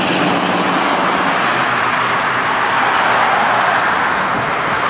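A big truck passes close by at a water park, a loud, steady broadband roar of engine and tires that holds strong for the whole five seconds with no voices over it.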